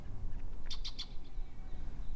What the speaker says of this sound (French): Un Merle d'Amérique qui me regarde